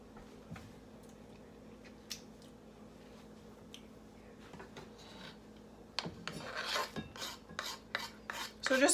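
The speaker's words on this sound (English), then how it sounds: "So just finely chop the garlic cloves." A knife finely chopping garlic cloves on a board: soft scraping at first, then a run of quick, irregular taps and rasps growing louder near the end, nearby and without speech.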